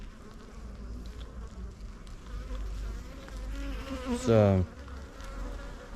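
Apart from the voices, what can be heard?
honey bees buzzing at a beehive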